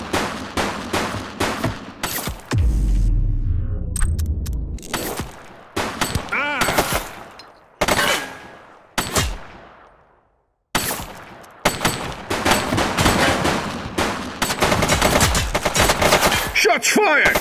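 Bursts of rapid gunfire crack out during a police shootout in the video game The Precinct, loud and close, fired in repeated volleys broken by short pauses, with a deep rumble and stretches of near silence between.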